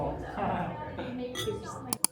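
Voices murmur, then two sharp glass clinks ring out close together near the end.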